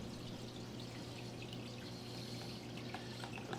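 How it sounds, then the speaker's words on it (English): A coral being rinsed in fresh water, a faint steady pouring and splashing trickle with scattered small drips, quiet and close, with no talking. "I'm actually going to rinse him in some fresher water than that."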